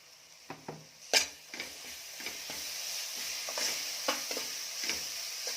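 Ginger garlic paste fries with masala in a pan for Kolhapuri mutton sukka, giving a soft hissing sizzle broken by several spoon scrapes and taps, fairly quiet and close.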